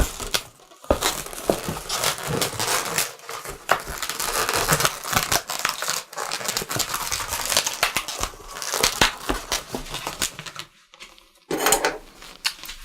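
A white latex balloon is snipped and tied off while a rabbit balloon stick is being made, giving close rubbery squeaks, crinkles and rubbing sounds in irregular bursts separated by short pauses, with no talking.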